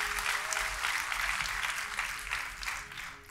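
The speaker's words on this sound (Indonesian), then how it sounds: "Kita kasih tepuk tangan yang paling meriah buat Tuhan kita." A church congregation applauds, a dense, steady wash of clapping from many hands that fills the whole stretch at moderate level, fading slightly at the end.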